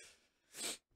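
A single short sneeze, fairly close and quiet, with a sharp breathy burst cut off abruptly.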